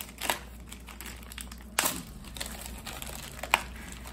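Plastic sleeves of boxed 8mm ammunition, taped together in small bags, crinkle and crackle as they are pulled open, with three sharp louder tears standing out over a steady low hum.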